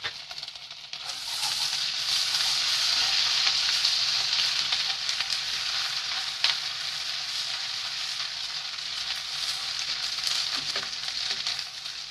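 Ginger garlic paste sizzles and fries in a hot pan for butter chicken, a steady, loud crackling hiss with occasional sharp pops and stirring scrapes, heard alone throughout.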